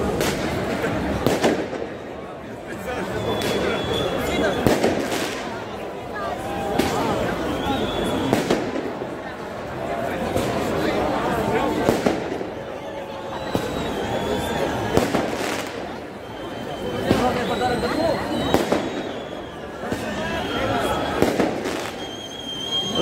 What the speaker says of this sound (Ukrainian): Ну тут так, якось салюти стріляють